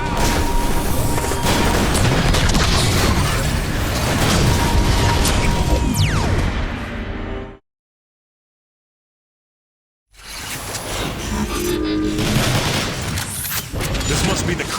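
Rocket blasts and heavy weapon fire in the Transformers: War for Cybertron Autobot campaign, loud, dense booms and bursts filling the scene, cut by a few seconds of total silence before the barrage resumes, with voices mixed in.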